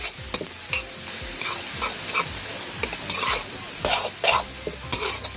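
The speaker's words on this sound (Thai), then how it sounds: "แล้วก็ทำการผัดพริกกระเทียมนะคะ ให้หอมเลยค่ะ" Chili and garlic being stir-fried in a wok for a spicy mussel basil stir-fry, with a close, lively sizzle broken by repeated spatula scrapes and clanks at an irregular rhythm.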